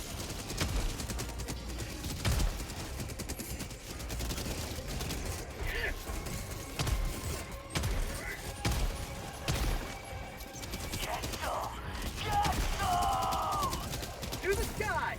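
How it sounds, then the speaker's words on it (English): A mortar fires repeatedly in Helldivers 2 amid chaotic battle, dull thuds and bursts of gunfire mixed with mechanical clatter, with voices talking over the noise. "there goes that mortar I just put down"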